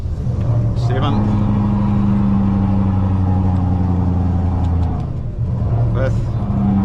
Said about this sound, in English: Start going down our gears, whole gears,